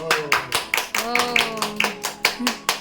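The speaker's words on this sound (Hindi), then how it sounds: "ताली बजाओ सब, चलो चलो ताली बजाओ, क्लैपिंग करो बच्चों।" A family claps together in congratulation at a home retirement celebration, a run of about a dozen sharp, fairly even hand claps close by, with voices cheering and calling out over the claps.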